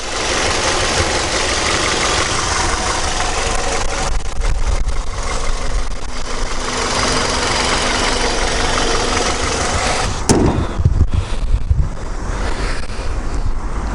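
A silver Hyundai Avante HD sedan's engine runs steadily at idle, a continuous close hum with wind buffeting the microphone throughout and a brief clatter near the end.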